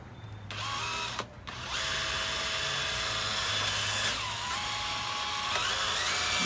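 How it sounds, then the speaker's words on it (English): A power drill whines loudly and continuously, pausing briefly once before grinding on with a shifting pitch as a dull bit bores into metal. "So I'm going to drill the big hole that goes over the head of the screw here."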